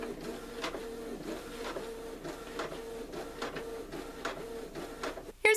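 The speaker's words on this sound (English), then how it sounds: "just hold this until my printer grabs it." An inkjet printer feeds and prints photos onto muslin fabric, a steady mechanical whir with rhythmic carriage passes repeating about twice a second, ending in a louder clunk.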